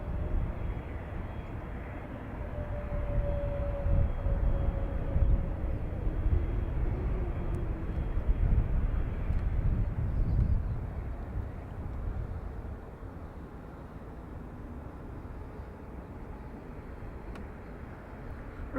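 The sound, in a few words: Falcon business jet at Dublin Airport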